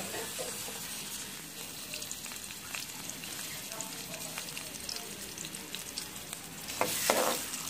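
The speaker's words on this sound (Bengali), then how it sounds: "এরপর হচ্ছে আমি দুইটা ছোট সাইজের পেঁয়াজ একটু ভাজা ভাজা করে নেব।" Chopped onions frying in soybean oil, a faint, continuous sizzle with light stirring scrapes and a brief louder clatter near the end, no talk.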